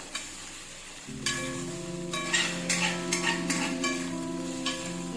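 A chicken momo filling with soy sauce is stir-fried in a pan with a steady sizzle. Several quick spoon scrapes and clatters land over it, close and without any voices.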